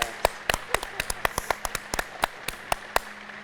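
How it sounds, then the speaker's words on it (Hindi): Irregular, sharp hand claps done as an acupressure exercise, about a dozen separate loud claps at close range over a low steady hum. "एक बार जोर से ऐसे ताली बजा लो तो सारा एक्यूप्रेशर हो जाता है"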